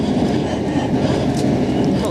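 A Sydney train runs at speed past East Hills, making a loud, steady broadband rumble that holds evenly from start to finish with no distinct breaks.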